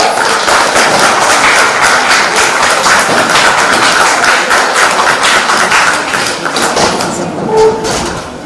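Sustained applause from a school audience following a stage performance, steady dense clapping throughout that thins slightly near the end.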